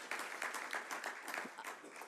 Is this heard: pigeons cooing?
no